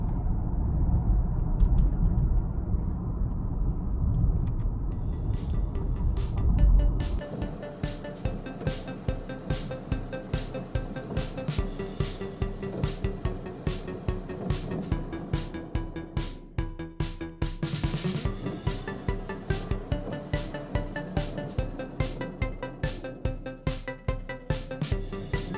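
Steady cabin noise inside a Tesla driving through city streets: a continuous low road rumble with a faint hum, moderately loud, no talking.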